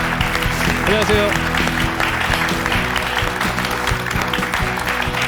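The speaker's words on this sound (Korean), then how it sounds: "강창용 원장님 큰 박수로 맞아주시기 바랍니다." Studio audience applause greets a guest, a Korean dentist who runs a one-man clinic, on a live morning talk show; steady clapping fills the room while a host speaks over it.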